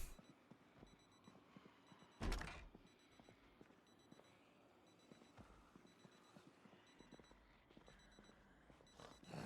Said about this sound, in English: which one of you fuckers left your alarm on?